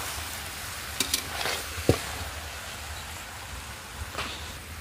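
A spice paste of ground ginger, cumin and green chilli fries in a pan, giving a steady, close sizzle with a few scraping stirs and small clicks on top, and no one talking.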